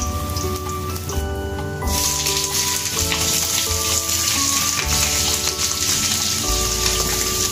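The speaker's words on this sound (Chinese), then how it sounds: "生姜、香叶、桂皮，还有草果一起放进去爆香。" Bones stir-fried in a wok with ginger, bay leaf, cinnamon and tsaoko give a dense, steady sizzle and crackle that runs loud and unbroken from start to finish, with faint tonal music underneath.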